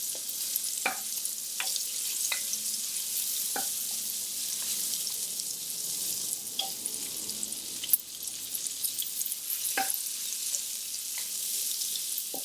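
Onions frying in a pan, a steady quiet sizzle broken by sharp utensil clicks and stirring taps at irregular intervals, no talk.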